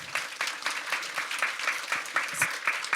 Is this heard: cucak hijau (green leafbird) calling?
no